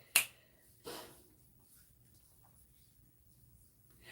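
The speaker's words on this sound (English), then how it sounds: "Snap my fingers, they all still listen." Two finger snaps ring out close and crisp, the first sharp and loud, the second softer about a second later, followed by near silence.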